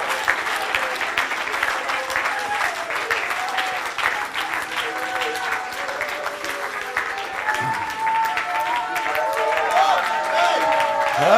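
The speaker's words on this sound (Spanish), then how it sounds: "Clap your hands and give God thanks." Church congregation applauding during a service, sustained clapping and crowd noise with voices and shouts mixed in, growing slightly louder toward the end.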